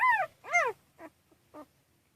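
Newborn puppies from a litter of six whimpering up close, two longer rising-and-falling cries followed by two short softer yelps, thin and high-pitched in an otherwise quiet room.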